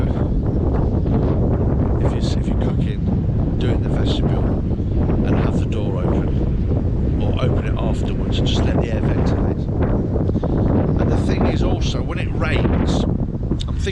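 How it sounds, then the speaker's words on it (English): Strong wind buffets the microphone in a constant roar, with a person talking faintly underneath. "It's windy now."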